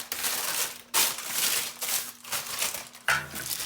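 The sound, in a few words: crumpling parchment paper for baking sourdough bread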